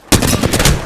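Gunfire in the Apex Legends video game, a loud close burst of rapid automatic shots rattling in quick succession for under a second.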